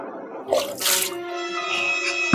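Water is thrown out, giving one brief splash and spatter nearby, followed by a short trickling tail.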